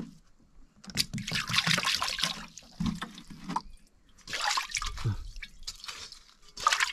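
Kitchen tap water runs and splashes in bursts for rinsing, trickling and dribbling with short pauses between pours, close and fairly loud, with a little background murmur.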